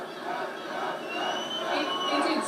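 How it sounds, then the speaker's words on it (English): Large outdoor crowd along the 2017 presidential inauguration parade route on Constitution Avenue in Washington, a steady roar of cheering and chatter that swells gradually, dense and continuous with no single voice standing out. "the crowd is getting louder and louder"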